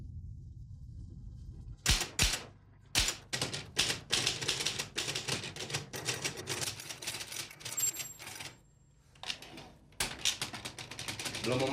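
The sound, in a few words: typing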